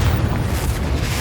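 Confringo blasting spell exploding in Hogwarts Legacy: a loud, sustained low boom with rumbling bursts, heavy and close throughout the short moment.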